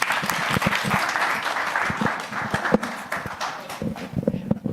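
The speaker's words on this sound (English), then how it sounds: "I think that Motel and Carol deserve another round of applause for the program management" An audience applauds at a launch event for an Indigenous knowledge registration system, with steady, dense clapping from a crowd indoors that thins out and fades over several seconds.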